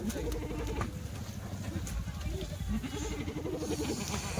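A truckload of newly arrived Kathiawadi goats on a goat farm bleats repeatedly, several animals calling over one another. Their cries sit under a steady background rumble, and people talk nearby.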